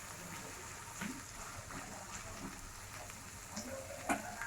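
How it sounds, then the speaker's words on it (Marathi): Mixed vegetables frying in oil for bhogichi bhaji, a steady soft sizzle with occasional faint stirring clinks, quiet and continuous. "आता मी सगळ्या भाज्या टाकून घेते व्यवस्थित तेलामध्ये परतून घेते"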